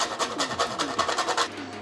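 Nutmeg scraped over a grater for a béchamel sauce for lasagna, a quick run of about ten rhythmic rasping strokes, close and crisp with no talking.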